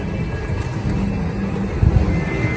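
A steady mechanical rumble of a large amusement park train, moderately loud and continuous, with low clattering throughout and no voices.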